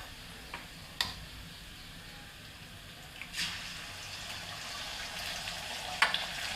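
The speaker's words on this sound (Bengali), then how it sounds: "আমি আলুর সাথেই হচ্ছে কি ডিমটা ভেজে নিচ্ছি" Egg frying together with potatoes in a pan with turmeric and salt, a faint steady sizzle with a few soft clicks of a utensil, no voices.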